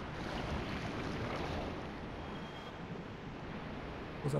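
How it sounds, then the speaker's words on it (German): A large waterfall in Dark Souls gives off a steady, even rushing roar that stays fairly quiet and unbroken throughout, with no voices. "Großer Wasserfall."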